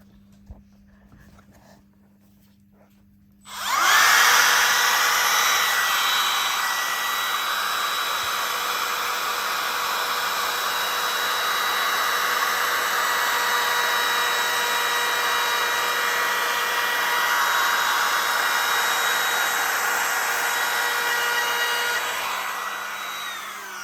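An electric wood router cuts a decorative groove along a wooden bed-part workpiece. It starts abruptly after a few quiet seconds, then holds a loud, steady high-pitched whine with cutting noise for about twenty seconds before easing slightly at the end.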